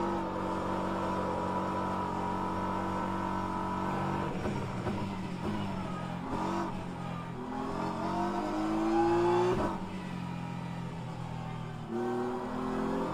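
Porsche race car engine in rFactor 2 at Interlagos, Brazil, revving hard through gear changes, its pitch climbing and dropping repeatedly as it accelerates and brakes, steady and prominent with no talk.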